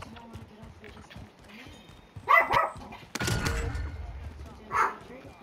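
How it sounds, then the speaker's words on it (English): Dogs barking in the Call of Duty: Modern Warfare video game, a couple of short bursts of barking with a heavier gunfire crash between them, set over quiet game background noise. "Dogs!"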